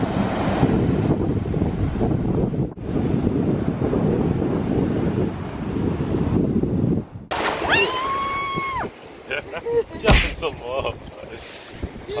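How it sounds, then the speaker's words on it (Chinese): Strong wind roars against the microphone on a beach by the ocean, with surf washing behind it; the wind cuts off midway and brief voices follow. "Yeah, walking on the beach."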